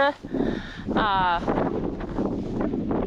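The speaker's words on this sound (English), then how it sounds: "It's a bit windy out here today" Gusty wind buffets the microphone outdoors beside a large manure spreader with a steady low rumble, while a person talks over it throughout.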